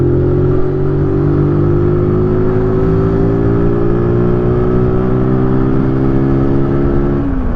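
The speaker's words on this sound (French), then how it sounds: "j'ai fait un petit dépassement sur cette voiture" Motorcycle accelerating to overtake a car on the road, its loud engine climbing steadily in pitch for about seven seconds before easing off abruptly at the end.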